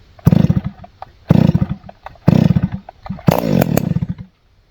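A ported and piped Stihl 026 chainsaw fires loudly in four short, rasping bursts as it is pulled and catches, the last burst running slightly longer before cutting out.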